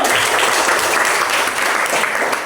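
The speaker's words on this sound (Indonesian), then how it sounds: "Oke, beri tepuk tangannya untuk kelompok 1." Classroom applause for a student group that has just presented, a dense, steady clapping from many hands at close range, with no talk over it.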